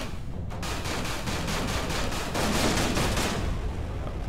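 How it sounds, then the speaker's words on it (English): Ship weapons fire in Everspace 2, a rapid rhythmic stream of energy shots pulsing evenly for several seconds over a dense space-combat background. "I have to shoot."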